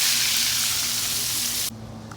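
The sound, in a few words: bangamary fish frying outdoors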